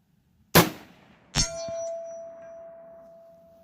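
Two sharp metallic clangs from a rifle bullet striking a steel target at long range, the first loud, the second about a second later followed by a lingering ringing tone, outdoors with no talk.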